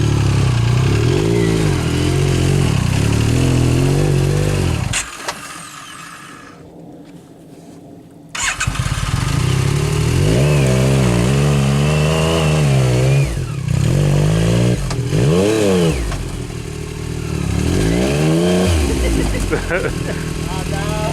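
A Can-Am Maverick X3 XRS off-road vehicle engine revs and surges over rocky terrain in bursts, with a brief quieter gap midway, while people talk close by throughout.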